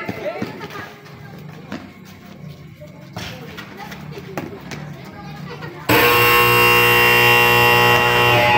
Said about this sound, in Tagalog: Buzzer na lang po. Buzzer, maririnig.